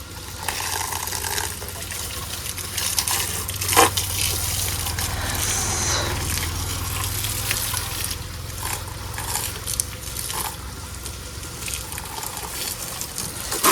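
Water runs steadily through a drip irrigation pipe on a chilli farm, a continuous close gushing trickle with a low pump-like hum underneath and a few splashy bursts.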